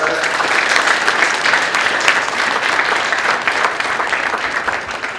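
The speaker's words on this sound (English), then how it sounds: "Another round of applause for her." Sustained audience applause at an indoor breakfast event in a hotel, steady dense clapping from many hands that holds loud throughout, with no one talking over it.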